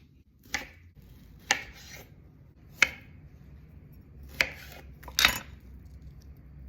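Knife halving Brussels sprouts on a board in a kitchen, five sharp separate chops spaced a second or so apart over a faint background hum, close by with no talk.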